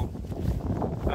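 Strong wind gusting across an exposed hilltop on the Long Mynd during heavy rain, a steady loud buffeting roar close on the microphone with a brief voice faintly underneath.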